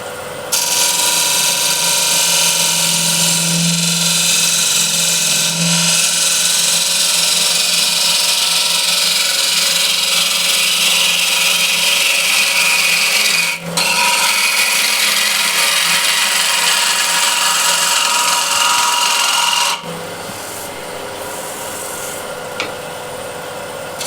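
A ball gouge cuts into an osage orange wood bowl spinning on a lathe, giving a loud continuous scraping hiss over the lathe's hum, briefly dipping twice as the tool lifts off.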